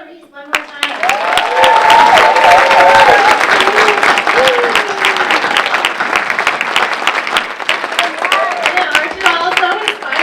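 An audience at the Leadership Kitsap 2021 "20 Under 40" award ceremony applauds the honorees with sustained, loud clapping that swells and then thins out over about ten seconds, with voices calling out above it.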